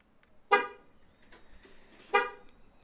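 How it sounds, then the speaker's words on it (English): Two short horn chirps from a Jeep Grand Cherokee responding to a key fob remote start, spaced about a second and a half apart, fairly close, with quiet background between them. "The vehicle will respond by flashing its lights, honking, and then starting."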